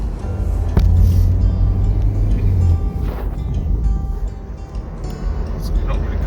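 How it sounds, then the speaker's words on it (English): A car drives along a road, its low engine and road rumble running steadily beneath a person talking, with a few knocks and thumps inside the cabin. "Driving it all the way back now."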